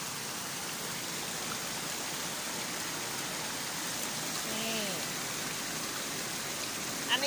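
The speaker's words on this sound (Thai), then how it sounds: "นี่คือน้ำตกนะคะ" A waterfall in a forest garden on a Thai farm makes a faint, steady wash of falling water, a soft continuous hiss heard from some distance, with a brief chirp near the end.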